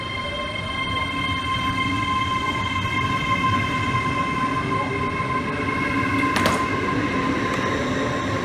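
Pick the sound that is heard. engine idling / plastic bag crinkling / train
train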